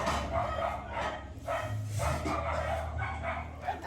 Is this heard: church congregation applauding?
no